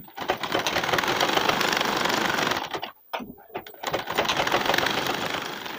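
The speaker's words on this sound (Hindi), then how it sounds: "तो चलिए सीधी सिलाई कर लेते हैं।" A sewing machine runs a straight seam on blouse fabric with a fast, steady mechanical whirr, pausing briefly midway before stitching resumes.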